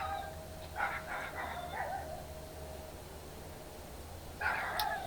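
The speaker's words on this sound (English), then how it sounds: "The little dogs yell at my dog for being in his backyard" Small dogs yap in a backyard, a few bursts of high, excited barking and yips at a middle distance, then a pause before another short flurry.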